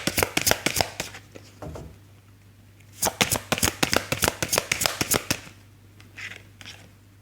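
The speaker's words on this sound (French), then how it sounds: "On va tirer une autre carte sur le message." Tarot cards riffle and snap in two quick bursts of crisp, rapid flicks, then a softer card is drawn and set down; close, dry and alone with no talk.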